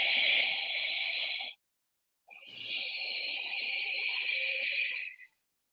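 Deep, ocean-like Ujjayi breathing through the nostrils during a yoga class comes as two long, airy breaths, each a sustained hiss separated by a short silence. The sound is close and soft.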